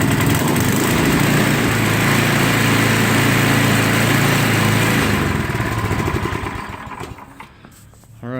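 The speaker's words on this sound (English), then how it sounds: "we do want to still start it just to see if it's actually going to start on its own" A snowblower's small gasoline engine runs loud and close after a pull start, holding a steady buzzing roar for several seconds before dropping off and sputtering down near the end.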